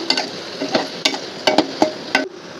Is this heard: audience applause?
no